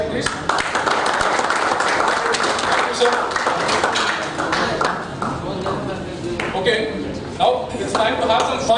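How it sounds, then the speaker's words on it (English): Audience clapping at a Columbia Sports Club awards night, a steady wash of applause from a crowd that carries on for the whole stretch, with speech and some scattered taps and crowd noise mixed in. "Clap, guys, please"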